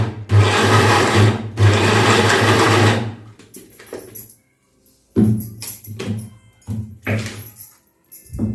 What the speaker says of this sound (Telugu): బెల్లం కూడా మిక్సీ పట్టేస్తాం.